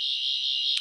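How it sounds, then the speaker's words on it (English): A toy Fourteenth Doctor sonic screwdriver's scanning sound, a steady, high electronic tone humming continuously, loud and close, with a brief warble near the end. "basically is the standard Sonic scanning sound"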